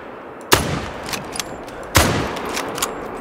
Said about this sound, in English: All right, I'm going to shoot it.